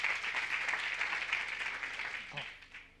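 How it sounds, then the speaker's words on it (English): A crowd at an art and fashion collaboration event claps in a dense, sustained burst that gradually fades toward the end, with voices mixed in. "A big round of applause."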